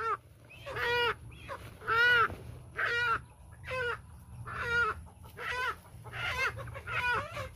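Chickens clucking and calling in a steady series of about eight bursts, moderately close, over a low background hum.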